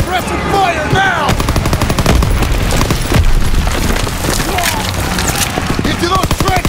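Sustained suppressive gunfire in the Call of Duty WWII video game: rapid machine-gun bursts and scattered rifle shots pour out continuously and loudly in a dense battlefield clatter, with shouted voices underneath.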